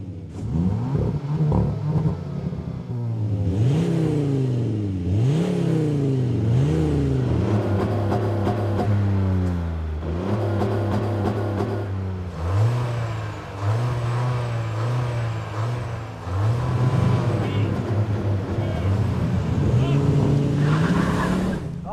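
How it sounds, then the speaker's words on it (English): Skoda vRS, Audi Q3, Ford Focus and Kia GT in a drag race, engines accelerating hard through repeated rising gear-change sweeps, loud and close from inside a car, with occasional voices over the engine noise. "let's continue this rather bizarre drag race"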